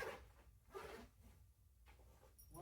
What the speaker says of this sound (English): Right, the zipper's already stuck.